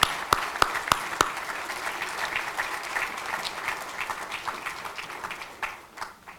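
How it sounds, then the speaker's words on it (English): Audience applause for athletes at a hall of fame banquet, a few sharp close claps at first, then steady crowd clapping that slowly fades. "let's give a round of applause to our athletes"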